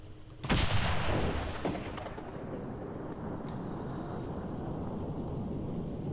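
A WW2 tank cannon in Enlisted fires a shell at a turret: one loud, close boom followed by a long rumbling roll that trails off into steady background battle noise.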